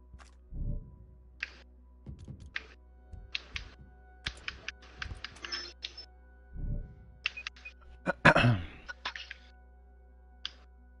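Scattered clicks and taps of keys on a computer keyboard, uneven and sparse with long gaps, plus a few low thumps and one louder rattling burst, close and quiet.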